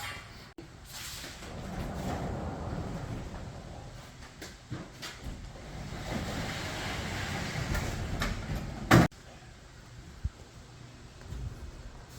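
A Bombardier Muskeg tracked vehicle being started and driven in and out of a shop: a steady low engine rumble with rattling, clanking mechanical noise, a sharp loud bang near the end, then a quieter idle.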